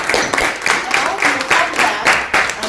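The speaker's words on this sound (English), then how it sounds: "Round of applause." Town hall audience at a Nigerian diaspora session giving a round of applause, rhythmic bursts of clapping with crowd noise and a voice speaking over it.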